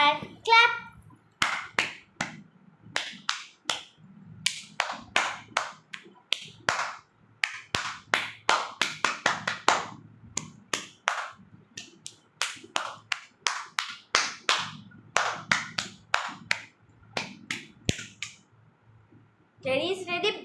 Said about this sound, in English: Now it's clapping time, everyone.